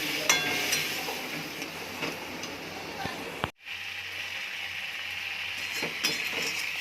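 Vegetables sauté in a pan with turmeric, chilli, coriander, cumin, salt and a splash of water, giving a soft steady sizzle with occasional clinks of a spoon against the pan and a brief break in sound.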